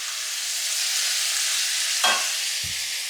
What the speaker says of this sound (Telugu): ఇప్పుడు టమాటా ముక్కలు వేసుకుంటున్నాను అండి